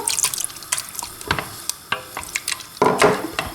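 Large beef bourguignon cubes brown in a pan with ras el hanout, turmeric, ginger and cumin, giving a soft sizzle broken by repeated scraping and stirring clatter, close and fairly loud.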